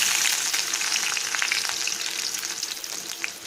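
Chopped ginger and garlic fry in a pan with soya chunks, producing a bright, continuous sizzle with small crackles and occasional stirring scrapes, close and fairly loud, with no voices.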